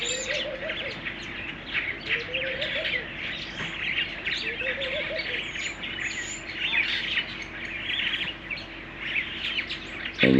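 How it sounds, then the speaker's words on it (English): Starlings chatter and whistle busily at a campsite in Kruger, a continuous jumble of chirps and squeaky calls, with soft murmuring voices underneath. "the birds are going, starlings are going crazy"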